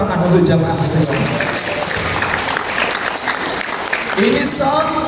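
The congregation of Al-Istiqomah mosque applauds at a Maulid Nabi celebration, with dense crowd clapping running throughout and voices heard over it.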